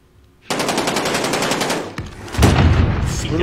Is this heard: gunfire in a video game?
yes